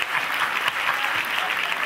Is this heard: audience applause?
yes